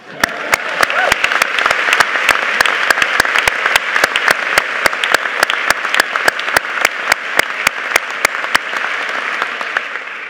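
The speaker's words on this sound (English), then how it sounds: "you deserve a round of applause" Audience applause at an MBA end-of-course ceremony, a steady roll of many hands clapping with sharp individual claps standing out throughout, loud and sustained for the full length.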